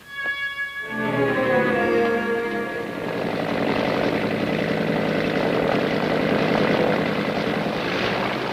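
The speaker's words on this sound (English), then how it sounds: "I heard the plane coming." A propeller plane drones steadily louder, its engine hum swelling into a broad, continuous roar that fills the clip.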